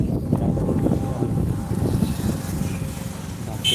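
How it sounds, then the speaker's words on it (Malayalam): Cold wind buffets the microphone with a constant low rumbling roar, close and heavy throughout. "തണുപ്പ കാറ്റ് തണുപ്പ കാറ്റ്"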